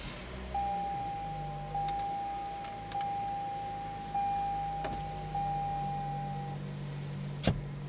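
A 2021 Toyota Corolla XLE with push-button start and smart keyless entry gives a series of about five evenly spaced soft electronic chimes inside the cabin, over a low hum, ending in a brief sharp click.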